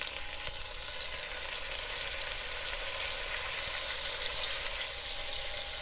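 Marinated beef searing in butter and oil in a cast-iron pot for boeuf bourguignon, a loud continuous close-up sizzle and crackle that holds steady throughout.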